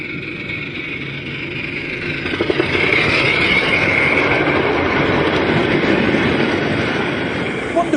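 A miniature passenger railway train rolls along its track at a model engineering meet, a steady loud rumbling clatter of wheels building and holding, with faint voices in the background.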